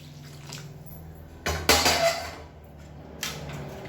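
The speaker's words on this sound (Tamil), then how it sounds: "சுடு தண்ணியாக சேர்த்துக்கோங்க." Hot water poured into a pan of chicken masala for a side dish, a sudden splashing burst that rises loudly and then settles into a softer sizzle and trickle, followed by a brief second splash.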